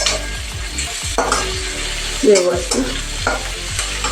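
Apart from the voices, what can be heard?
frying and stirring garlic and masala in pan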